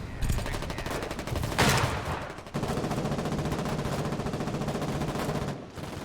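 Gunfire in the video game Foxhole during frontline fighting: continuous rapid automatic fire with a louder burst early on, a dense unbroken crackle throughout, loud and close.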